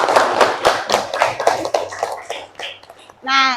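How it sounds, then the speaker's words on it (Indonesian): Classroom applause for a student at a junior high school in Polewali Mandar, with a burst of claps from several students that quickly thins out, followed by a brief voice at the end. "kasih aplaus dulu untuk Rani yang selalu menjawab"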